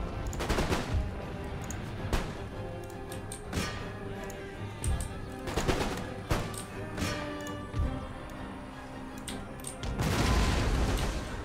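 Musket volleys crackle in Empire: Total War, with several sharp bursts of massed fire scattered across a steady battlefield din and a heavier rolling volley near the end.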